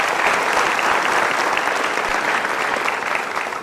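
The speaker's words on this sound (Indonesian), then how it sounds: "Tepuk tangan untuk Anda," Loud, dense studio audience applause on a television quiz show, a thick sustained roar of clapping that stays level from start to finish with no voices over it.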